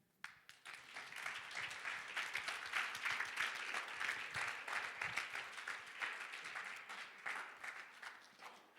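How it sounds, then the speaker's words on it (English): Audience applause at a youth conference swells quickly into a dense, sustained patter of many hands clapping, steady for several seconds before easing slightly at the end, heard from across the hall. "I want you to give a round of applause to our guest today."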